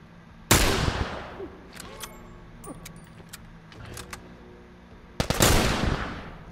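Two loud rifle shots in The Last of Us ring out several seconds apart, each a sharp crack with a long echoing tail, while faint clicks and small game effects fill the gap between them.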